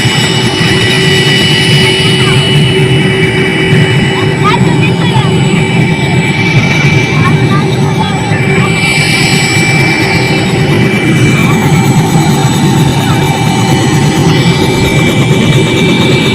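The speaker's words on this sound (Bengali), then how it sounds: "দেখেন এই হেলিকপ্টার এখানে এসে পড়েছে" A helicopter arrives at the Friendship floating hospital with a loud, steady engine and rotor roar that holds for the whole stretch, voices faintly mixed into the din.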